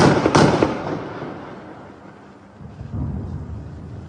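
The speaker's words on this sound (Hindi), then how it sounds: "गोलीबारी की आवाज जो है वो साफ तौर पर सुनी जा रही है" Gunfire crackles at night in the West Bank, with a few sharp reports at the start trailing into a rumbling echo, then softer distant pops. It sounds far off and carries through the dark.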